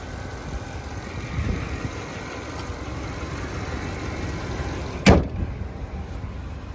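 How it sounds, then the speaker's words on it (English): A steady low Hemi V8 engine hum idles throughout in a Ram pickup truck, with a brief sharp knock or door-like thump partway through. "It's just got that normal hum of the Hemi that you hear."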